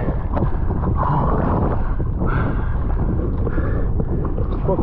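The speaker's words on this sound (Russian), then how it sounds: "Ветер, конечно, может быть и послабее." Strong wind roars and buffets the microphone continuously while wing foiling on open water, a loud, dense rush that swells in gusts with faint splashing underneath.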